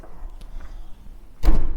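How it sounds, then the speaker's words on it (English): A single solid thud as the rear door of a Citroën Pössl Campster van swings shut, close and loud after a brief stretch of quiet room noise. "if you close the rear door"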